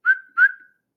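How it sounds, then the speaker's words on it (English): Two short, clear whistles sound close together, each a bright held note that quickly fades, followed by silence. "Tom whistled twice more."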